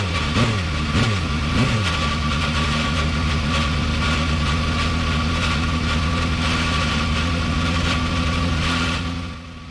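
Super Formula race car in Gran Turismo 7, its engine holding a steady, buzzy, tinny drone at close range after a few quick blips of revs at the start, alone with no talk.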